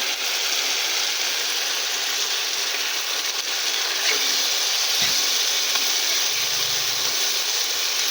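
Spice masala sizzles in hot oil for an egg and potato curry, a loud continuous close hiss with faint crackles throughout and no talking.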